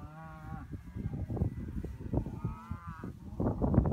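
Hereford cattle moo and low nearby, several drawn-out calls over shuffling and thudding sounds from the herd.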